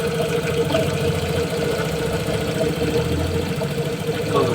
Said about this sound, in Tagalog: Tahimik ako nga dito, tutukan mo yung makina.